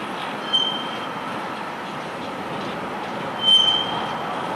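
A freight train with a tank car rolls past steadily at moderate distance, a continuous rail rumble with brief high wheel squeals rising twice.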